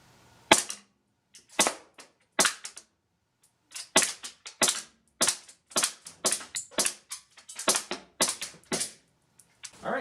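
A green gas airsoft pistol fires 0.32 gram BBs at a goggle and mesh mask combo from about 18 feet, giving around two dozen sharp, loud cracks in irregular bursts with short silences between shots.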